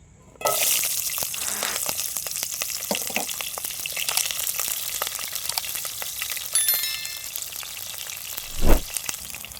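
About twenty peeled small shallots dropped into hot oil set off a sudden loud sizzle that settles into a steady hiss with light stirring, ending with a louder thud or scrape near the end.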